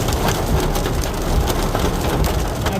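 Heavy wind-driven rain in a strong storm pours down sideways onto a truck in a loud, dense, constant roar with gusty surges, close and with no voices.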